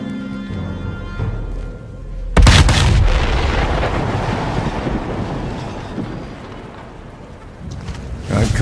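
V2 rocket launch in Sniper Elite 5, a sudden loud blast followed by a sustained roaring rumble that slowly fades, then builds again near the end.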